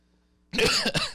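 A single harsh cough bursts out after a half-second of near silence, loud and close, with a rough throaty rasp that trails off quickly.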